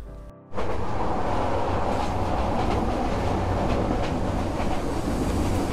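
A passenger train runs on its rails, heard from aboard as a loud, continuous rumble with a steady clatter of wheels, starting abruptly after a brief quiet moment and then holding an even roar.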